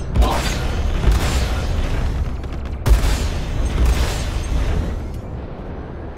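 Missile launches and explosions in the Star Citizen game Squadron 42 rumble with a dense, continuous low roar, two sharp booming hits near 0.2 and 2.9 seconds, and grinding mechanical texture throughout.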